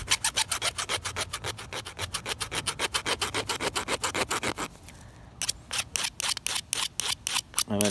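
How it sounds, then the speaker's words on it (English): A serrated butter knife is worked against a sharpener in fast, rhythmic rasping strokes, close and steady, with a brief pause before the strokes resume. "I'm going to keep turning the sharpener a little this way, a little that way."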